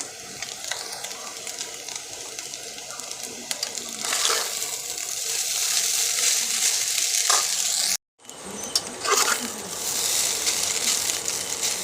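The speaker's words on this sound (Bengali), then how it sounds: "এই চাউমিনটা ভাজা হবে হালকা করে ভেজে নিচ্ছি" Chow mein noodles fry lightly in a pan with a close, crackling sizzle and occasional stirring scrapes, broken by a brief silent gap before the frying resumes.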